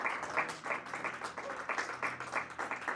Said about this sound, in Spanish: Denle fuerte esas palmas al Rey.